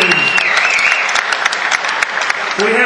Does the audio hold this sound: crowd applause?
yes